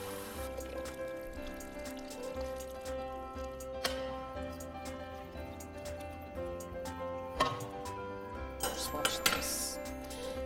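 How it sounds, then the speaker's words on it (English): Water runs and splashes while a stewed tomato can is rinsed out, with metallic clinks and clatter of kitchenware throughout and a few louder knocks near the end. "And I'm gonna rinse out, obviously,"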